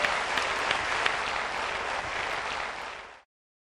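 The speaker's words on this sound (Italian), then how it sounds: "mi serve, per farla sentire ancora più a casa, l'applauso dei siciliani, quello vero" Studio audience on an Italian TV variety show breaks into sustained applause, dense clapping from many hands that holds steady for about three seconds, then cuts off abruptly into silence.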